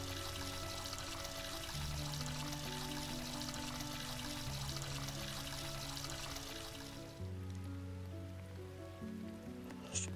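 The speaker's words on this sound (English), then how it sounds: "Gotta take a shower now." Shower water running steadily in the Roblox game Brookhaven, a continuous hissing spray heard alone for about seven seconds before it cuts off, with background game music tones throughout.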